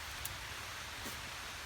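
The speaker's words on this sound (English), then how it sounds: "That rain is really kicking up already." Steady rain falling on an island during a primitive survival camp, a continuous soft hiss of broadband noise at a low, even level with no voices.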